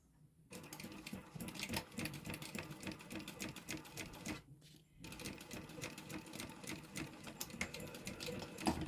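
A sewing machine runs a seam on a Bartleby sling bag, a steady close mechanical whir and rapid needle clatter that stops briefly midway and then resumes just as loudly.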